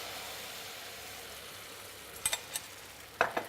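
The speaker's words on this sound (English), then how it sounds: "I'm just going to pour in my eggs." A quiet, steady sizzle of eggs cooking in a hot sauté pan on an AGA cast iron range's boiling plate, with a few sharp clicks of a utensil near the end.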